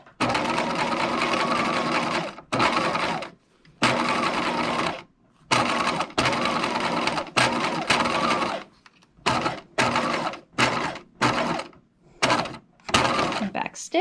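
Bursts of rapid sewing machine stitching run along the nose channel of a lace face mask, close and loud, starting and stopping repeatedly with longer runs early and short quick bursts later.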